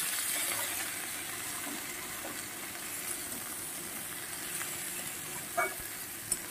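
Pumpkin greens with turmeric frying and being stirred in a pan, a continuous soft sizzle with occasional scraping and clinks from the spatula, close and fairly quiet, no talking.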